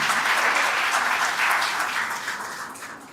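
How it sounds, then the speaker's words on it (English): Audience applause at a Women's Day intellectual property event, a full sustained round of clapping from a crowd that slowly eases off toward the end. "Please give a round of applause for Poonam Madam."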